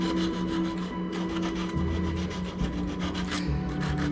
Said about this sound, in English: So I made my own sanding stick, 300 grit.